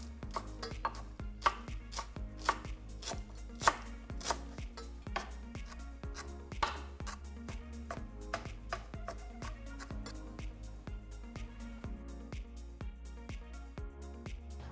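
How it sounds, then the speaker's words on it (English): A small bunch of cilantro is diced with a knife on a cutting board, a steady run of quick, crisp chops, close and fairly quiet, with a few heavier strikes among the rapid taps. "Small bunch of cilantro diced"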